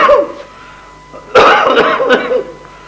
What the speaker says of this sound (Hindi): क्या सुरीली खांसी है तुम्हारी